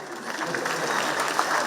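A church congregation at a Kenyan presbytery gathering breaks into a short burst of steady applause, a dense, even patter of many hands filling the room for under two seconds.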